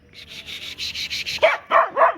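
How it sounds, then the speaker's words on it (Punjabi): A dog barks at other dogs at night, a rubbing, scraping noise repeating in a steady rhythm before several loud, close barks break out. "ਕਿਵੇਂ ਭੌਂਕਦਾ ਕੁੱਤਿਆਂ ਨੂੰ"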